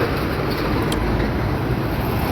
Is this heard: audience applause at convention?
no